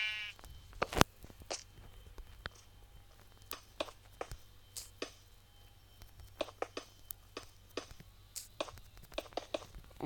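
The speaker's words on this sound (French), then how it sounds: "Oh c'est mouton." Sheep in the video game Crafting and Building bleat repeatedly in short, scattered calls over a quiet, steady background hum, with no talking.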